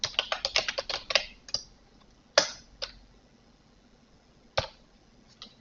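Rapid bursts of keystrokes on a computer keyboard as Prolog code is entered, a quick cluster of clicks followed by sparse, isolated taps, close and clear with no talking.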